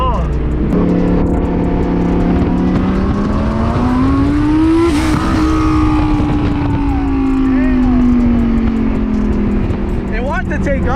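Twin turbo Lamborghini accelerating hard at night, a loud, steady engine roar with a rising then falling whine as the car pulls, heard from close by with people talking over it.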